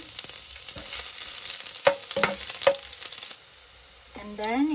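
Garlic sizzles and fries in hot cooking oil in a pan for a Filipino vegetable and egg curry, with scattered stirring and scraping clicks, a steady hiss throughout, and a voice speaking briefly near the end.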